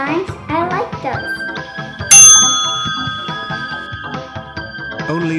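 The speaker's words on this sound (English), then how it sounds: "Only ring the doorbell once." A doorbell rings once with a bright, jingling chime that stands out over a busy, cheerful musical background during Halloween trick-or-treating.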